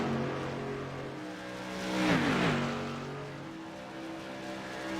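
Modified series race cars at Richmond track roar past in a group, engine drone building to a loud pass with a falling pitch sweep, then fading while other engines keep droning.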